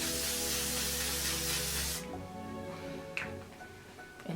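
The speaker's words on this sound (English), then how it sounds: "Let's go ahead and spray my face with some more L'Oreal" A L'Oreal foundation setting spray hisses in one long, steady burst toward a face for about two seconds, loud and close, then cuts off. Faint handling sounds and small clicks follow in a quieter room.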